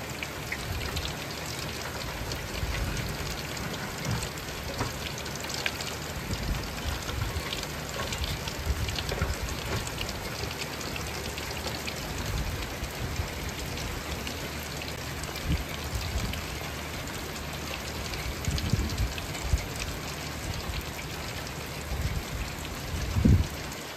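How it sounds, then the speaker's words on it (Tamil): Steady rain falls at sea onto a fishing boat, a dense, constant hiss of drops pattering on the deck and surfaces, with occasional louder splashes and a low rumble beneath. "இப்போ மழை பெய்ய ஆரம்பிச்சிருச்சு."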